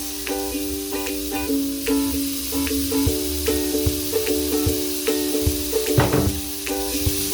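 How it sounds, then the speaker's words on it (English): Carrots tossed into a pan of sautéed onions in a little oil for a vegetable Spanish omelette, a steady close sizzle and hiss, with light scraping and stirring clicks, over a constant tonal hum. "Now that our onions are sauteed very well, we don't want them to be too brown. So I'm going to go in with my carrots."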